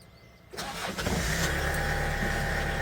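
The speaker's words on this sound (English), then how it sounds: "Let's start the car." A Kia Bongo 3 diesel food truck engine with manual transmission cranks briefly and catches, then settles into a steady, rumbling idle close by.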